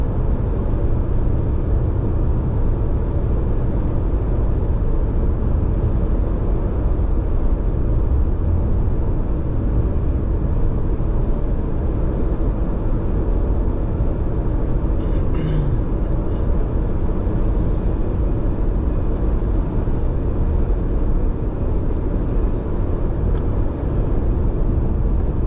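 A U-Haul truck cruising on scenic highway TN 111 near Soddy Daisy, Tennessee, its steady engine and road rumble heard from inside the cab, loud and continuous with no talk.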